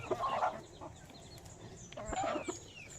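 Chickens clucking softly nearby on a farm, a couple of low throaty calls with faint chirps and rustling in the background.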